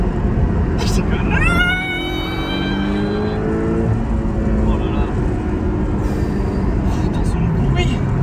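Porsche 718 Cayman sports car engine revving hard from inside the cabin, a rising howl sweeping up in pitch over a couple of seconds then easing into a steady drone, with excited voices talking over it.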